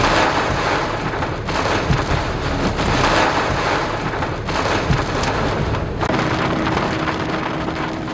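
Heavy rain drums steadily on a truck camper during a South Dakota thunderstorm, a loud, dense wash of water with a few low rumbles of thunder, no voices.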